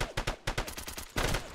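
Rapid bursts of automatic gunfire crack in a multiplayer shooter match, a tight string of loud, evenly spaced shots with a short gap before a final flurry, no talk over them.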